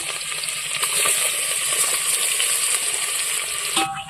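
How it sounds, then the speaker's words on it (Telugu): Onions deep-frying in hot oil for a village-style chicken biryani give a dense, steady sizzling hiss that runs close and loud the whole way through, with a brief clink near the end. "ప్రజెంట్ వచ్చేసి నూనె కాగింది, ఉల్లిగడ్డలు వేసుకుందాం"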